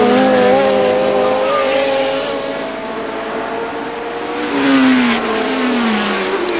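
Formula One cars of 1970 racing at the British Grand Prix at Brands Hatch, including a Lotus 72 on the fast straight: a loud, sustained engine howl with pitch rising and falling as cars pass, alone with no talk.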